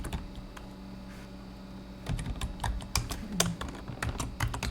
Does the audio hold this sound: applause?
no